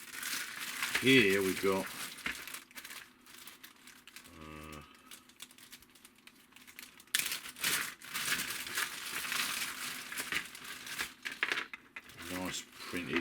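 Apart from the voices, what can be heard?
plastic bag crinkling while unpacking starter kit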